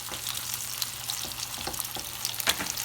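Cheese-heavy meatballs sizzle in a pan, a steady close crackle of frying with soft scraping as they are moved around so they don't stick.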